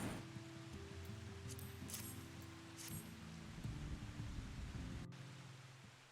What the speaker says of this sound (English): And then it starts raining.